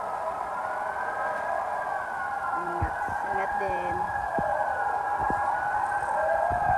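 A fire truck siren wails at a large residential fire in Pandacan, Manila, a steady high tone holding on throughout and moderately distant, while people talk nearby and a car horn briefly sounds.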